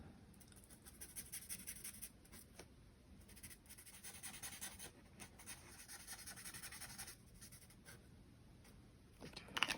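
Thin-nib cool grey marker colouring window frames and piping on paper, a faint, close scratchy rubbing of repeated short strokes with small pauses, very quiet throughout.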